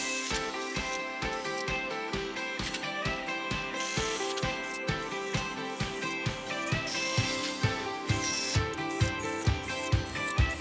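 A cordless drill with a big spade bit bores through 2x4 wall studs. The whine is steady and close, with a regular rapid ratcheting chatter all the way through, and no one speaks.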